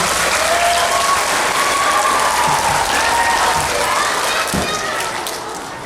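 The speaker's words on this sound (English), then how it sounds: "Would you give Mr. Keller a round of applause and welcome him to the school?" A crowd of school kids in Fair Grove, Missouri applauds to welcome a guest speaker, dense sustained clapping filling the room, tapering slightly at the end, with scattered voices underneath.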